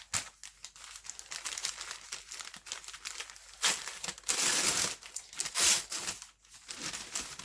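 Plastic and paper packaging from an advent calendar crinkles and crumples up close, in irregular bursts of rustling with a few louder tearing crunches.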